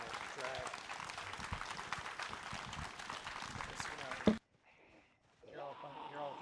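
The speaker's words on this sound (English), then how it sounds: "let's all give a great big round of applause to our phenomenal speaker this evening." A burst of crowd applause and clapping fills the first few seconds, then cuts off abruptly into near silence before faint talk resumes.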